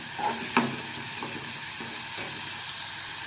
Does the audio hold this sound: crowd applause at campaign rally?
no